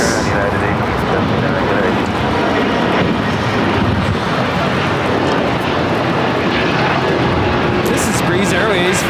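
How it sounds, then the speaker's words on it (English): Breeze Airways Airbus A220-300 taking off at LAX, a loud, dense engine roar sustained at full strength throughout, with voices mixed faintly beneath. "This is Breeze Airways, flight 825, taking off to Akron on the A220-300."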